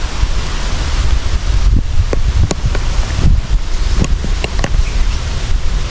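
Strong wind roars continuously outdoors, a loud broadband rush with gusty swells and occasional crackles of rustling, steady throughout with no talking.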